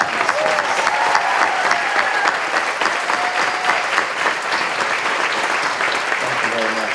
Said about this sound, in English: we want to give him a round of applause for his service